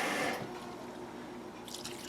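Water trickling and dripping as a small amount is poured into a food processor holding salsa verde ingredients: seeded peppers, coriander, cumin, garlic, oregano and cilantro. The pour is brief and close, with a faint splash near the end.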